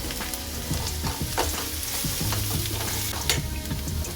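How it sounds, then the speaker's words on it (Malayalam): Onion and capsicum frying in a pan, a steady close sizzle with light scraping and stirring clatter running throughout. "അപ്പോൾ ഓണിയൻ ഒന്ന് വഴന്നു വരുന്ന സമയത്ത് ക്യാപ്സിക്കം കൂടി ചേർത്ത് കൊടുക്കാം"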